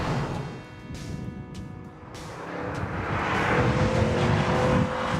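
Chevrolet SS four-door muscle sedan driven through corners on a winding road, engine note dipping then swelling as it pulls out, with tyre and wind roar building steadily.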